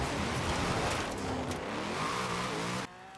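A nearly 1800-horsepower off-road buggy in Forza Horizon 4 accelerates hard, its engine revving loudly through rising pitch sweeps before the sound drops abruptly near the end.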